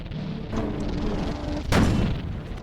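A howitzer on a World War I tank fires once in a video game, a loud, sharp boom with a brief rumbling tail over a steady game backdrop.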